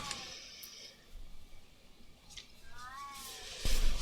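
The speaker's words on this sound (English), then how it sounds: "I apologize for the whining cat in the background." A cat whines and meows in the background of a quiet indoor art-journaling session with paste paint, several drawn-out cries spread through the stretch, with a louder thump near the end.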